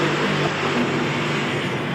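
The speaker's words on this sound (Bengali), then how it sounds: "2টা মোটর একসাথে চালু করে দিতে হবে" Two electric motors on a cement brick making machine run together in a steady, dense mechanical drone with an even hum, loud and close, no pauses and no voices over it.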